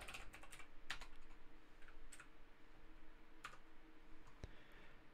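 Computer keyboard typing at a work desk, a run of scattered, irregular key clicks and taps, fairly faint and close, with no talking over a low room hum.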